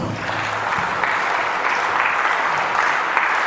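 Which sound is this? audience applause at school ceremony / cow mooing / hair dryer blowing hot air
audience applause at school ceremony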